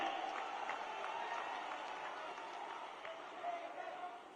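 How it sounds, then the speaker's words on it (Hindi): A large outdoor crowd at a political Jan Aakrosh rally applauds in a steady, dense wash of clapping and crowd noise that holds at an even level throughout. "सभी लोग ऐतिहासिक तालियों से राहुल जी का स्वागत करें"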